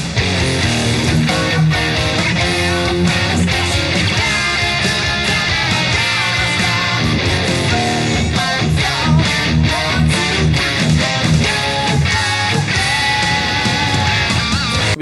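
Electric guitar riffs through the pre-chorus, dense driven power chords with choppy palm-muted rhythm, loud and continuous with no talking.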